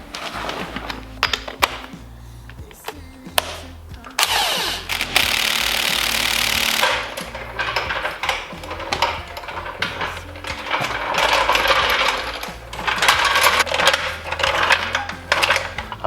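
An impact gun loosening the wheel nuts on a Ford Sierra Cosworth: loud, close hammering rattles in several bursts, with metallic clinks between them.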